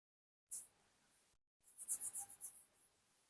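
Handwriting during a maths lesson: a brief scratch of the pen, a pause, then a quick series of rhythmic strokes, close and clear against near silence.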